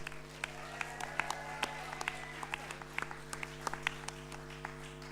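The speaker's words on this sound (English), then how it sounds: "massive round of applause for all the teams." An audience at a Scottish youth poetry slam gives all the competing teams a round of applause, a soft, steady patter of many hands clapping at a distance over a constant low hum, with no voices.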